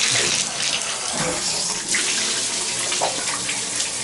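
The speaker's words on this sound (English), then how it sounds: "We'll check the water pressure. This is the hot water." Hot water pouring steadily from a bathtub tap into the tub in an apartment, a loud, even rushing splash close by with no talk.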